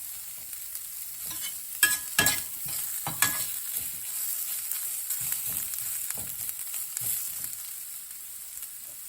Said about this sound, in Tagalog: Hayaan ko muna siyang magisa-gisa ng konti para medyo maluto-luto ang carrots.